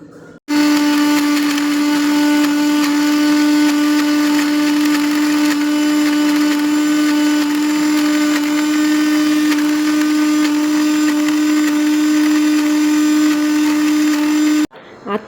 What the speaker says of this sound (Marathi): आता हे सगळं आणि त्यासोबतच लसूण, अद्रक, कोथिंबीर हे मिक्सरमध्ये वाटून घेऊ.